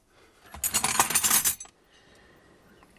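Car keys for a Lada jangle and clink for about a second in a close burst, then fall quiet with faint room noise.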